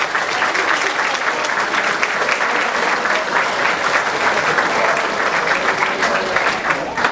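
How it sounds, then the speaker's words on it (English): A large audience applauds steadily at a university speech event, dense continuous clapping filling the whole stretch at a loud, even level. "Give him a round of applause, please."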